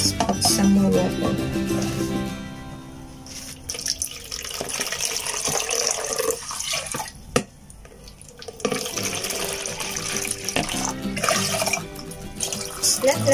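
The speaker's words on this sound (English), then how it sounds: "and I just put some more water" Water runs steadily into a pot, splashing and gurgling nearby, with a brief pause midway before the pouring resumes.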